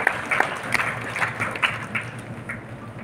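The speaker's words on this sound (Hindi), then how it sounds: "जोरदार ताली होनी चाहिए" An audience applauds at an award ceremony in Gyan Bhawan, Patna, during a district magistrate's honour at the 2023 Medha Diwas event; steady crowd clapping runs throughout at moderate level with a few sharper claps standing out.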